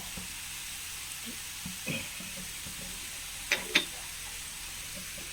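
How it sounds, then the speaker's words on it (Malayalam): Food in a pan gives off a faint, low sizzle while a spoon stirs it, making a few scattered soft scrapes and two brighter clinks near the end. "നല്ലോണം ഇളക്കി കൊടുക്കാം."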